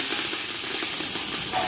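Curry leaves dropped into hot oil already holding mustard seeds, cumin, asafoetida, bay leaf and dried red chillies. A loud, dense, continuous sizzling hiss lasts the whole brief moment.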